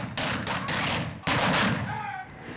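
Rapid gunshots boom in a Wild West gunfight reenactment at an open-air theatre on the site of the OK Corral shootout, several loud cracks in quick bursts with brief gaps between them.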